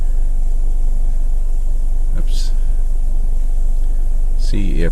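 A 2009 Subaru Forester engine idling with a check engine light on, a steady low hum with faint beeps above it, heard close.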